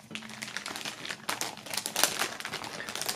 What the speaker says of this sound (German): Aber erstmals holen wir die Sachen noch aus der Folie.